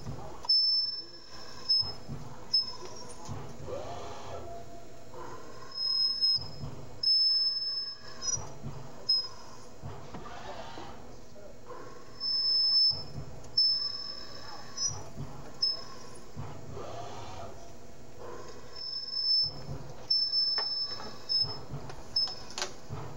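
A ProtoTRAK SMX CNC mill runs its spindle while machining a bolt hole pattern, a steady low mechanical whir broken by repeated short high-pitched squeals and clicks of cutting, with a person talking over it.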